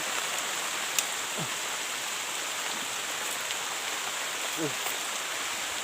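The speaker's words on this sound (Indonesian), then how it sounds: "Maaf teman-teman, banyak hujannya." Rain falls steadily outdoors among sugar palm trees, a soft continuous hiss with faint scattered drops, fairly distant and even throughout, with no one speaking.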